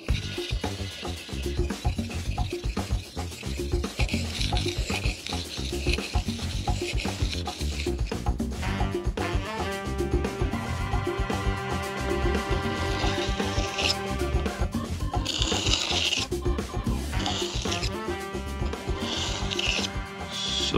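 Hard steel being sharpened on a coarse stone with mineral oil, a continuous rhythmic gritty rubbing in back-and-forth strokes, close and fairly loud, with some talking.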